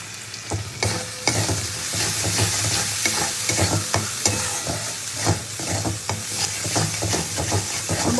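Cumin powder and chili powder sizzle and fry in a hot pan, a steady loud hiss broken by repeated scraping strokes of a stirring spoon.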